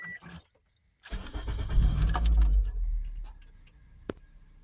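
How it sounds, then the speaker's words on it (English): A car engine cranks and starts after its fuel injectors have been cleaned, with a close, loud rising whir that settles into idle after a brief key jangle and a click. "So anyway, we're gonna start the car."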